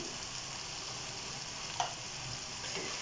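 Dal mash frying in a pan while it is stirred with black pepper powder and garam masala, a steady soft sizzle with one brief scrape of the spoon partway through.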